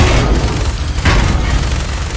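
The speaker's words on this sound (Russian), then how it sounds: "Тачки взрываются." Cars exploding in the video game Fallout 4: loud bursts of booming blasts and crackling explosions, dense and continuous, with a couple of sharper hits standing out.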